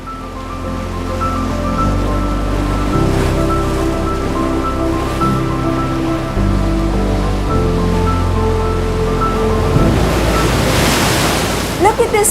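Jang Falls in Arunachal Pradesh, a large waterfall pouring into the Tawang river, gives a constant broad rushing roar, with low rumbling tones and wind buffeting the microphone toward the end.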